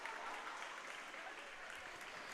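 A crowd at a girls' middle school dual swim meet cheers and applauds continuously, a dense, steady roar of clapping and shouting echoing through an indoor pool hall.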